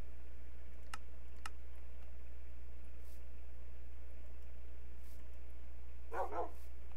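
Dogs in the video game Minecraft, a few short faint yips early and a quick burst of barks near the end over a steady low electrical hum.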